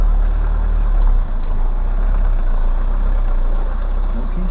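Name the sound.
tractor engine running in mud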